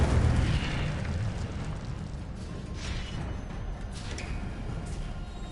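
The Incendio fire spell from Hogwarts Legacy whooshes up as a soft, steady roar of flame, strongest at the start and then settling into a low, continuous rush with no voices.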